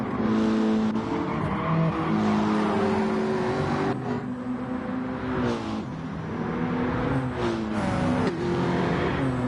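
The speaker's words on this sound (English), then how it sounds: "The tires are squealing in pain." Touring race cars in a circuit race in Sardinia roar loudly past close by, engines revving and shifting pitch, with tires squealing through the corners in sustained, wavering whines.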